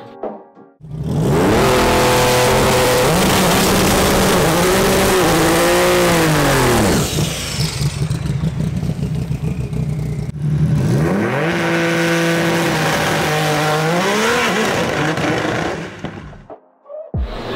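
A 2500-horsepower Nissan GT-R drag car makes a hard pass, its engine roaring loud and close as revs climb through one long pull, drop at a gear shift, then climb again before the sound fades away.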